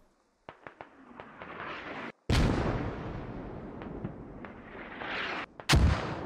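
Self-propelled artillery gun firing in the military shooter Squad, with several sharp distant reports followed by two loud, booming blasts that roll on in a long rumble.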